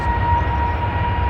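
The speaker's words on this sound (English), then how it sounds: "The engines are brought to full power for the first time." Airbus A380 jet engines brought to full power for the first time during a final test, a loud, steady roar with a constant whining tone that holds without break.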